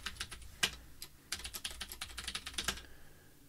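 Someone types a password on a computer keyboard. It comes as a quick, uneven burst of light key clicks at moderate distance that ends in a short pause. No speech.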